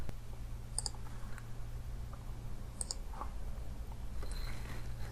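Sparse computer keyboard keystrokes as a network command is entered, a few soft clicks scattered over a steady low electrical hum, faint and close.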